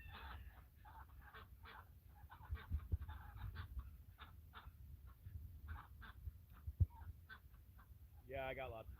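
Backyard chickens clucking and murmuring in short bursts, with ducks nearby and a person talking softly over them; a louder, raspier squawk breaks in near the end.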